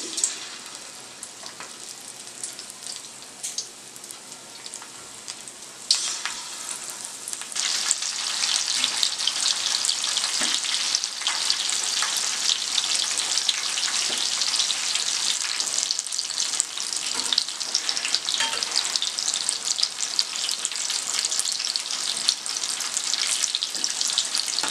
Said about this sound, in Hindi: अब आप देखें कि पकोड़े फ्राई हो गए हैं